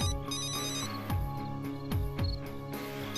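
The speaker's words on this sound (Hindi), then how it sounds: "काफी देर से ये फोन बज रहा है" A phone rings with a repeating electronic ringtone melody, moderately quiet, playing on its own without anyone talking.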